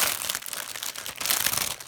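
Close, loud crinkling of plastic packaging on an Audeze LCD headphone earpad kit being handled and pulled open, a continuous crackly rustle with no voices.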